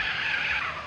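A car skids through a U-turn in GTA San Andreas with a brief, steady high tire screech, loud and close, lasting about a second.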